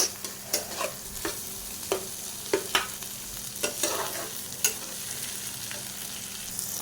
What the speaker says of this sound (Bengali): এবার বাকি যে ডিম আর পেঁয়াজ লঙ্কা এগুলো সবগুলোকে একসঙ্গে একটু ভাজা ভাজা করব।